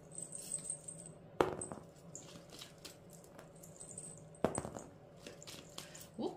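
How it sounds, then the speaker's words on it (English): Dice rolled three times during a card reading: three separate clattering tumbles, each a sharp hit followed by a brief rattle, set against faint background noise. "let's go ahead and roll the dice. I'm going to roll it 3 times."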